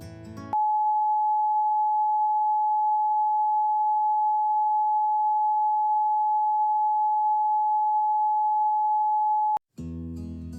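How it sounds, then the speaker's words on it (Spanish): A pure, steady 852 Hz solfeggio tone holds unbroken at constant loudness for about nine seconds, with brief bursts of music cutting off before it and resuming after it. "La sexta frecuencia, La, 852 Hz, se utiliza para la visión y la conciencia espirituales."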